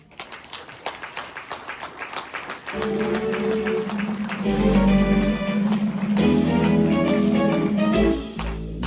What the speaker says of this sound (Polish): I kurtyna w górę, Michał, i pełne oklaski.